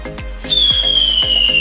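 Rocket firework whistling loudly, a long rising-then-falling shrill whistle over repeated sharp crackling bursts and rustle, heard outdoors with no talk.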